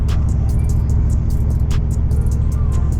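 A 1982-1992 F-body Camaro/Firebird engine held against the brakes while rolling: a loud, steady low-pitched rumble close to the listener, with no talk.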